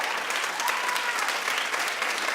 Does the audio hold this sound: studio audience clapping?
yes